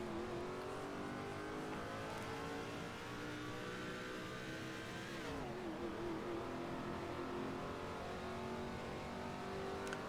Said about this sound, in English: God, I love that engine sound.